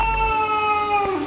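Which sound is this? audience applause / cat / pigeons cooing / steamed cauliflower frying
cat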